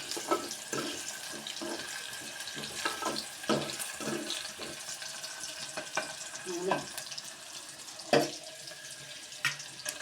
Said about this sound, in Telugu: పోతే ఉల్లిపాయ బాగా ఫ్రై అవ్వాలి.